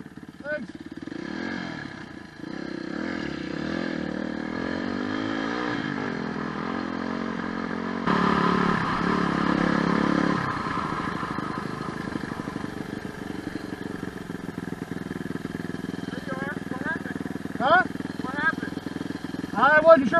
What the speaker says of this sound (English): You see a guy on a blue dirt bike come through?